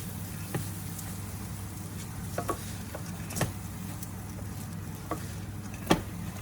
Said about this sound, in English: we're coating all the grains of rice in the butter, the oil, the fat from the bacon